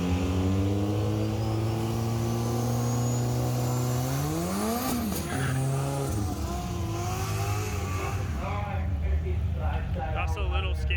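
A blown street radial class drag car runs a pass on street radial tyres, its engine loud and close, holding a steady drone, then climbing sharply in pitch through the gears as it accelerates away, with a commentator talking throughout.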